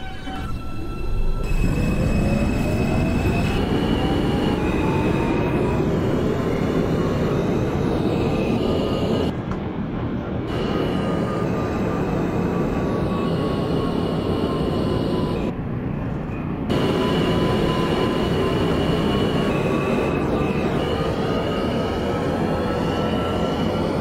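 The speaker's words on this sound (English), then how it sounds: "This is a 59th Street bound R train." An R160A subway train runs on the R line in the OpenBVE train simulator during the morning rush, a loud steady rumble with a rising and falling motor whine and two brief dips in the roar.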